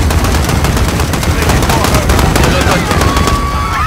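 Dense, continuous automatic gunfire in the Call of Duty Modern Warfare video game, loud and relentless with overlapping bursts and a voice faintly underneath, set during a chaotic street battle at Piccadilly Circus.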